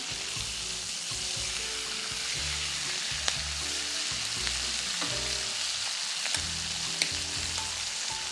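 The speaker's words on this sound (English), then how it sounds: "We're going to go ahead and flip them again." Steaks sizzling steadily in a frying pan after being flipped, with a continuous close crackle and a few small pops, no talking.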